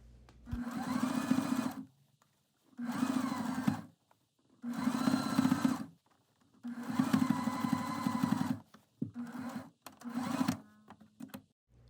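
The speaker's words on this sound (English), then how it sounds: "Now you can go ahead and sew the second half of the hem with a 1/2 inch seam allowance." A sewing machine stitches the second half of a balloon skirt hem with a half-inch seam allowance. Five loud bursts of steady, rapid motor whirring are separated by short pauses, with nobody talking.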